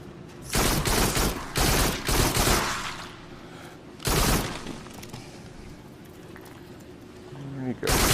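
Bursts of rapid gunfire from shooting enemies in the VR game Farpoint, several loud clustered volleys of automatic fire separated by quieter pauses, with someone talking over the gameplay.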